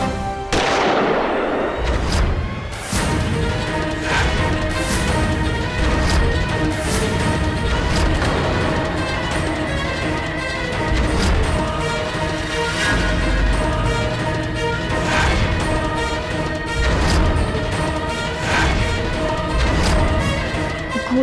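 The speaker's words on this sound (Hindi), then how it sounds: "गोली चलने की आवाज" Gunfire in a Hindi TV drama scene: loud, sharp bangs repeat every few seconds over a sustained dramatic musical backdrop, with no talking.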